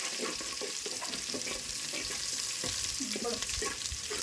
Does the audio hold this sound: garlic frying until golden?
yes